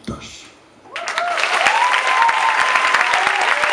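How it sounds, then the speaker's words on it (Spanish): A poetry slam audience in Mallorca bursts into applause after a quiet moment, a dense wash of clapping that stays loud and steady to the end. "Un fuerte aplauso para Pedro."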